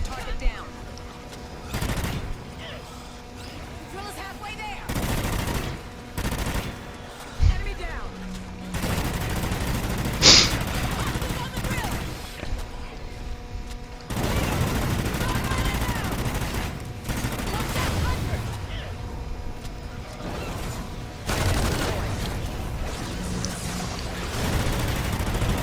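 Venom shots in the video game Sigma-Hardcore Awakening come as repeated bursts of rapid gunfire, some close and some more distant, across a busy game mix with occasional louder impacts.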